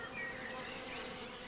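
Bees hum continuously around spring blossoms in the Swiss countryside, a steady, soft, even buzz with no pauses.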